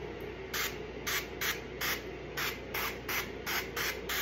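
Cooking spray hisses from a can in short, quick bursts, about a dozen brief sprays in a row, close and fairly steady in rhythm.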